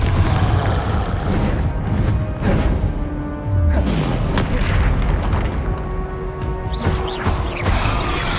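A Confringo blasting spell explodes in the video game Hogwarts Legacy, loud heavy booms and crashing impacts layered with game effects and a swooping tone, sustained dense rumble throughout with no talking.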